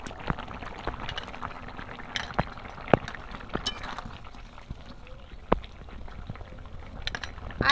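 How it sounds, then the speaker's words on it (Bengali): Rohu fish curry gravy for a Bengali village recipe bubbles at a rolling boil in a pot, a continuous close, wet bubbling with scattered clinks and taps, and no voices over it. "এরকম টক টক করে ঝোল ফুটিয়ে টেস্ট হবে খুব ভালো"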